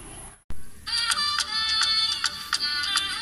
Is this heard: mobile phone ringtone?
yes